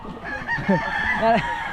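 Roosters crow and cluck nearby, giving a few short, rising harmonic calls in quick succession over a quiet outdoor background.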